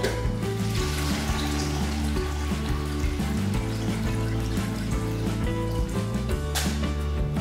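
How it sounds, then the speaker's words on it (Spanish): Spin mop soaking in a cube spin mop bucket of water, with a steady, loud watery churning and splashing that runs on without a break over a low constant hum. "Ahí tiene un espacio para remojar el trapeador"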